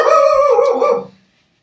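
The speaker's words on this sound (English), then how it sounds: "Can you hear the carp dog barking?" A single dog lets out one loud, drawn-out yelping bark that bends into a howl, then breaks off into silence.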